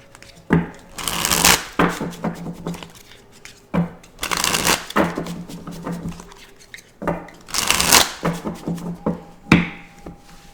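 Two decks of Divine Feminine Healing cards are shuffled together, giving repeated riffling bursts and soft slaps spread across the stretch at close range.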